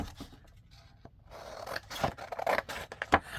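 Scissors trimming the white edges off a paper printable, several close, crisp snips and papery scrapes that grow louder and quicker toward the end.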